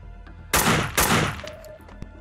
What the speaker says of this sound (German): lassen wir die Valerie ein bisschen rumballern